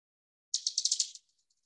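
A bat's echolocation calls, played as audible sound, run as a rapid series of about seven sharp, bright pulses in its terminal feeding buzz while it attacks a moth. The pulses then trail off into faint ticks.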